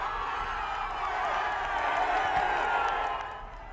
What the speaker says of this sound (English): Those are fans in Milan, Italy, cheering after winning the vote to host the 2026 Winter Olympics